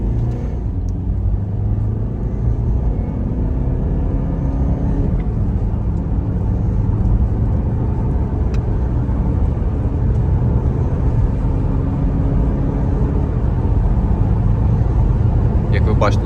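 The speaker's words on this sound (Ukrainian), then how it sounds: "автомобіль набирає дуже швидко, передачі всі переключає дуже справно" A 2013 Honda CR-V 2.2 diesel engine rumbles steadily as the car accelerates quickly, its drone rising and easing as the automatic gearbox shifts smoothly through the gears.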